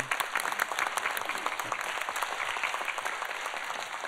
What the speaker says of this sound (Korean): 예, 우리 한 박수 한번.